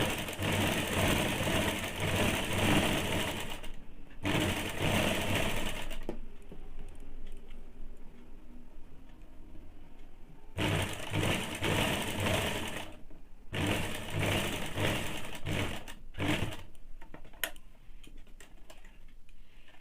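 Sewing machine stitching a two-piece high neck blouse, running in steady loud bursts of rapid needle clatter separated by short pauses and fabric handling.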